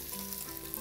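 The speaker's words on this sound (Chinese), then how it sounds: "哎，把我们的马铃薯炒一下。" Potatoes stir-fry in an oiled pan with a steady, faint sizzle and light crackle, continuous and unbroken, with no talk over it.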